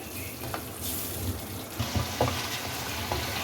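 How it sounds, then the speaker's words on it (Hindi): Masala with chicken liver fries in a pan on raised heat, a steady soft sizzle with scattered clicks and scrapes of stirring. No voices. "बाद अब इसे मसाला अच्छे तरीके से भून लें।"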